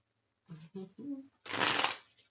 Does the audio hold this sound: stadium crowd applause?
no